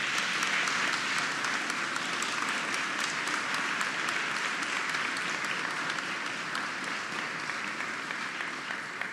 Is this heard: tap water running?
no